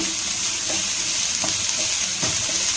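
Food sautéing in a hot pan for an evening snack, with a steady broadband sizzle throughout and a few soft stirring clinks of a spoon against the pan.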